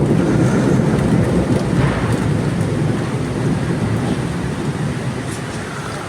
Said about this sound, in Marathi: बघा गाईज कल्याणमध्ये केवढा पाऊस आहे